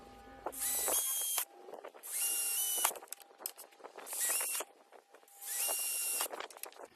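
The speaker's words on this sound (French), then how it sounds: "A l'aide d'un fourré métal, tu préperces tes glissières." A drill fitted with a metal bit pre-drills holes in the guide rails of a window insect screen, running in four roughly one-second whining bursts separated by short pauses, close and fairly loud.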